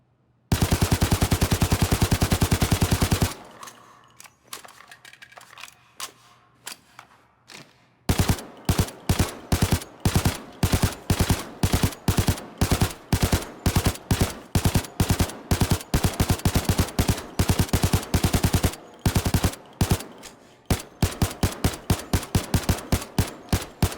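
Bursts of UMP-45 submachine gun fire in the Payday 2 video game, a long continuous stream of rapid shots, then a pause with mechanical handling, then many short sharp bursts and single shots with brief gaps, loud and close.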